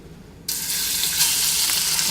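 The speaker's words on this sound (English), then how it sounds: "we're going to add our bacon." Bacon hits hot olive oil in a pan and bursts into a loud, steady sizzle after a brief quiet moment, the crackling hiss holding strong and close to the end without any voices.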